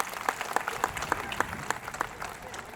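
Crowd applause breaks out after a poetry recitation at a poet's speech event, a dense, fairly close patter of many hands that continues steadily throughout.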